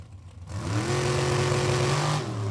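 A Super Comp dragster launches in the second pair at an NHRA drag strip, its engine rising into a loud, steady roar that holds and climbs for about two seconds before easing, with no talk.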